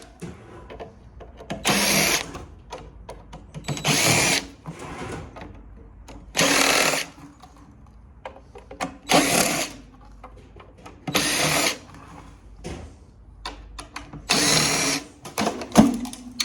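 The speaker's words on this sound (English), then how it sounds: "So now these guys, I just take out top screws all the way around." A power driver backs screws out of heavy copper radiators in six separate whirring bursts, each about a second long, close up with short pauses between them.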